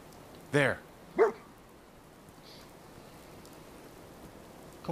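A dog in a video game barks twice in quick succession, sharp and fairly close, over a steady faint rain-like background hiss.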